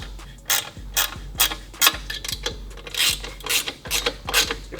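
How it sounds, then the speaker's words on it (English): A ratchet wrench clicks in short repeated bursts while tightening exhaust flange nuts on a Harley-Davidson Dyna, each stroke producing a close, rasping run of pawl clicks with brief pauses between. "Okay, so we're gonna go ahead and tighten the flange nuts."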